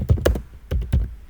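Quick keystrokes on a computer keyboard, several close, crisp clicks in two short bursts while entering an accounting entry in Tally Prime.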